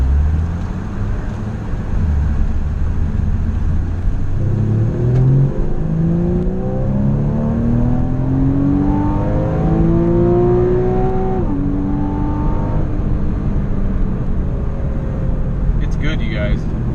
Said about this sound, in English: That was in drive and it revved all the way out.